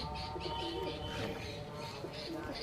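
Pigeons in a loft in Behala, Thakurpukur, coo softly and repeatedly, their low burbling calls close by but faint over a steady background murmur, with a few chirps mixed in.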